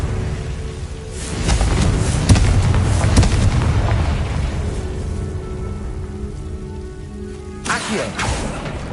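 Fiery spell explosions in the Hogwarts Legacy video game: a loud rumbling burst with crackling debris that sustains for several seconds, then a second sharper blast near the end.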